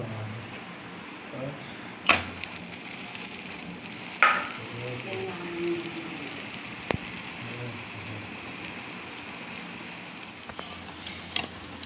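Semolina parathas fry in a pan with a low, steady sizzle and hiss. A few sharp clicks and bumps from cookware break through now and then.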